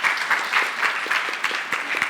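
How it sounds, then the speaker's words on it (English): An audience at a talk on reading people gives a round of applause, a lively patter of many hands clapping with audible individual claps mixed into the crowd, fairly close and even. "Give him a big round of applause"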